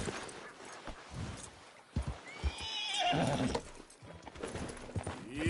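A horse in Red Dead Redemption 2 neighs with a rising and falling whinny while hooves clip-clop along beneath it, fairly quiet, with some ambient game sound throughout.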